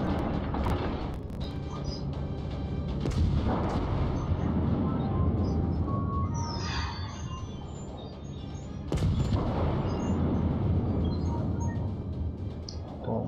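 Naval artillery fire in World of Warships, heavy booming salvos from battleship guns such as the Nagato's, loud and sustained with broad rumbling bursts and a strong renewed blast near the end.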